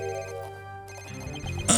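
A telephone rings in the Phoenix Wright: Ace Attorney – Dual Destinies video game, a tonal electronic ring heard over quiet background music, ending in a brighter chime.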